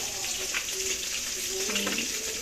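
Fish frying in hot oil in a home kitchen, heard as a constant close crackling sizzle with faint background tones, no voices.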